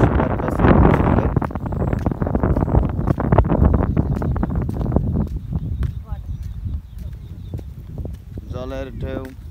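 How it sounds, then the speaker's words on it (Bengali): Outdoor wind roars steadily across the microphone beside moving water along a rural roadway, a broad rushing wash that eases slightly toward the end, when a voice begins talking. "জলের ঢেউ, বাতাস"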